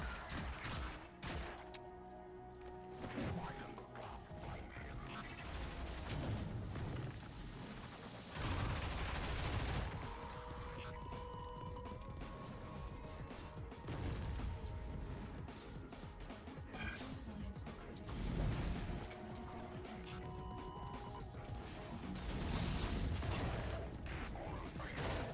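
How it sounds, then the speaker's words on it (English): Rifle gunfire in a video game crackles in repeated bursts with mechanical clatter between them, set against a dense, busy game soundscape. "it seems like a rifle"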